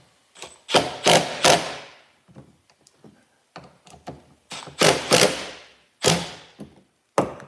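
Bolts being tightened while fitting truck mirrors to a VW T25: close, sharp metallic knocks and clanks come in irregular bursts with quiet gaps between them, and no one speaks.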